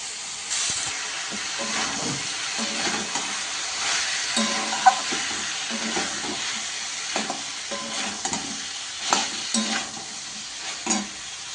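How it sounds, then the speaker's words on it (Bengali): Cauliflower and potato curry fries with a steady sizzle in a pan on the stove as a spoon scrapes and stirs in irregular strokes, close and continuous without talk. "রাত্রের খাবারে ফুলকপি তরকারি বসিয়ে দিয়েছি বন্ধুরা। ফুলকপি আলুর তরকারি করছি নিরামিষি।"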